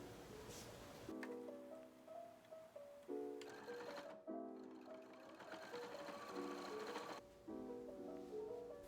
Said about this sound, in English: I pinned it and sewed along